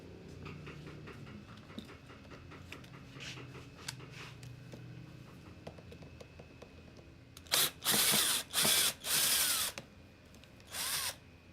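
A power drill whirs in four quick bursts close by, then once more after a pause, following a stretch of quiet background hum and small clicks.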